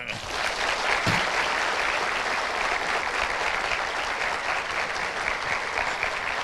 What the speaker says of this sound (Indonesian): Berikan tepuk tangan yang meriah untuk Angga Fauzan